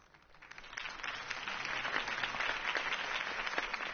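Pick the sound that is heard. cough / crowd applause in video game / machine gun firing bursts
crowd applause in video game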